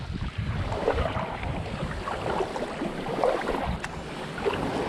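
North Sea waves washing around a sit-on kayak off Filey, a steady broadband swash and lapping close by, with wind buffeting the microphone throughout.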